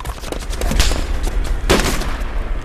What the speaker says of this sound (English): Yeah, gunshot.